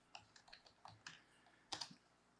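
A short, quiet burst of typing on a computer keyboard: a handful of distinct key clicks in an uneven rhythm, close and alone, ending in a slightly louder cluster of keystrokes.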